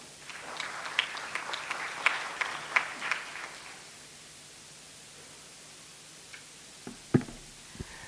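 Scattered, light applause from a small audience at a public service day conference patters for a few seconds and then dies away into quiet room tone, with a couple of isolated knocks afterward.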